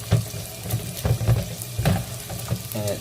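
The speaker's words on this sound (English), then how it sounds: "tap water hot, and then just kind of thaw them out with hot water" Hot tap water runs over frozen food in a kitchen, a splashy, hissing stream with uneven spatters and knocks, fairly close and without voices.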